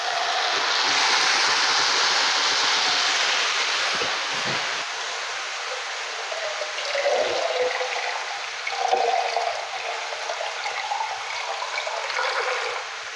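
Water pours steadily into a pan of leeks and crushed tomatoes for a vegan leek, tomato and parsley sauce, a loud continuous gushing that softens midway, with a few brief clinks and stirring bumps near the end.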